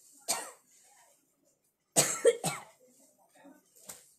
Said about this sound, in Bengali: খালি কাশি।